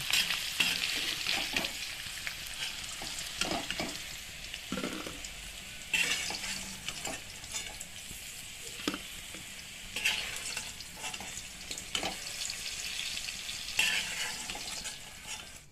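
Potatoes fry in hot oil in a wok, a continuous sizzle broken by repeated scraping strokes of a stirring utensil, close and fairly loud with no talk.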